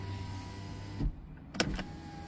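Electric car window motor whirring as the glass winds up and down, a short whine followed by a firmer burst of motor noise, close and alone with no talking.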